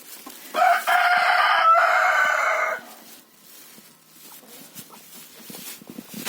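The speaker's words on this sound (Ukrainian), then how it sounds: "Ой, як гарно співає цей пітушок." A rooster crows once, loud and fairly close in a poultry yard, followed by quiet outdoor ambience with faint rustling.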